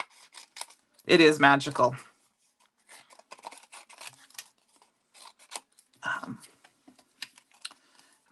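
Scissors snip through paper while images are fussy-cut for Valentine easel cards, giving quiet, irregular clicks and cuts spread across the clip, with a short bit of talking near the start.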